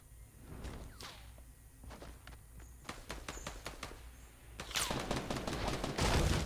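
Gunfire in the video game Fortnite, faint scattered shots at first, then a denser, louder burst of fire toward the end, with no talking.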